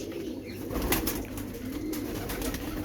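Pigeons at the Shahdara pigeon market in Lahore coo softly amid a noisy ambient background, with a few brief flutters and rustles of wings.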